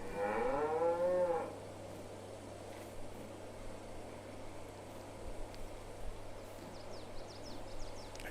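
A cow in the farming game Farming Simulator 22 lets out a single long moo close by, then soft ambient farm background with faint bird chirps follows, with no talking.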